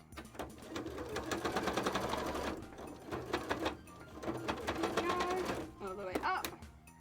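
Sewing machine stitching around the edges of fabric tail scales, a steady mechanical whirring in bursts with short pauses, heard under a person talking.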